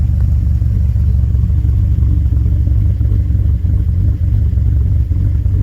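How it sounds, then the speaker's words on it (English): A 2013 Chevrolet Caprice with an LS3 V8 and BTR cam, run through the stock exhaust with the muffler deleted, gives a steady, deep, loud rumble close by, with no talking. "this is through the stock exhaust with just a muffler delete."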